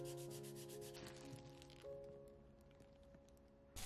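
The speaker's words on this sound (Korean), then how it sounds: "고운 사포로 한 번 더 샌딩해주면 이제 아주 매끄러운 표면을 얻을 수 있습니다." Wood is sanded with fine sandpaper on a wooden ocarina, giving a steady, close rasping rub throughout with no voices over it.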